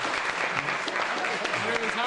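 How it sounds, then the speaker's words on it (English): An audience applauds in a dense, continuous wash of clapping that holds steady at moderate loudness. "Applause, please."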